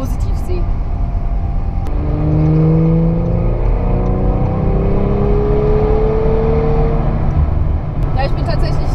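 An Audi RS5 accelerates on the Autobahn, its engine rising in pitch through the gears as a steady in-cabin drone with road and wind noise, loud and continuous throughout.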